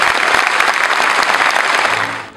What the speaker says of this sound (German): ich danke Ihnen, dass Sie mir einen Applaus geben haben.